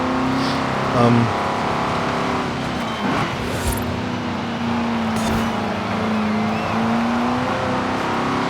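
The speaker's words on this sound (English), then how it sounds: "the gearing of this car because I'm revving it close to where the rev limiter is" A 2005 MG XPower SV-R engine revs hard near its rev limiter in the racing game Forza Horizon 5, a loud, steady high-pitched drone with brief dips at gear changes and a faint voice underneath.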